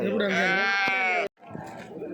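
Sheep and lambs bleat at a busy weekly livestock market, one long loud wavering bleat followed by a short pause and a fainter second call, with people talking nearby.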